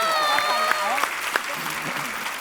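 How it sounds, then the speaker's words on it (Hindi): A studio audience on a TV comedy show applauds in a steady wash of clapping, heard under a person speaking with musical tones and a few sharper accents. "जोरदार ताली हो जाए विद्या जी की।"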